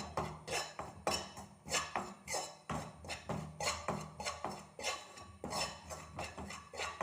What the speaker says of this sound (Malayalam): ഇതിൻ്റെ പച്ചമണം മാറുന്ന വരെ നമുക്കൊന്ന് ഇളക്കി കൊടുക്കാം